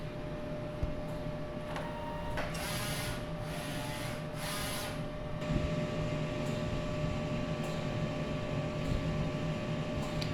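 An inkjet printer with an ink tank system prints a nozzle test, giving mechanical rubbing and whirring passes with a few brief higher-pitched bursts of head movement, steady and close, with no one talking.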